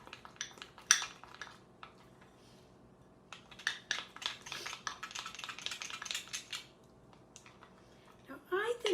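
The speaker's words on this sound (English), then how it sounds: "All right, so let's mix it up because yellow and red make orange." Spoon clinking and scraping against a bowl while yellow and red food coloring are stirred together, scattered taps and brief clatters at close range, loud bursts near the start and end.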